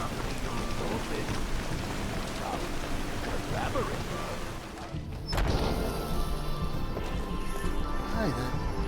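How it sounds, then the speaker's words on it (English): Heavy rain pours steadily in Skyrim, drumming on surfaces, and a sharp thunder crash breaks in about midway before the downpour carries on. "Gods, that rain was horrible."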